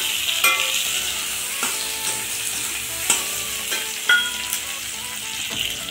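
Onion and capsicum frying in a pan for chilli chicken, a bright steady sizzle broken by several clinking scrapes of a utensil against the pan at irregular intervals.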